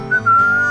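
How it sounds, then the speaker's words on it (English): A tuneful whistled melody plays on the K-Rose country radio station in GTA San Andreas. The whistling is loud and close, with one short held phrase and then a longer sustained note over soft backing instruments. "Here's some tunes to whistle on a lonely night."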